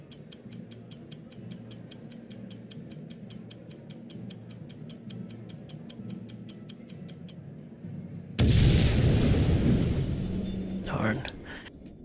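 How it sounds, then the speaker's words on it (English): A steady, rapid clock ticking in The Great Ace Attorney Chronicles video game runs for about eight seconds and then cuts out, followed at once by a loud, rumbling explosion that roars for several seconds and tails off, with no talk. "I thought it was gonna be a cooler looking explosion"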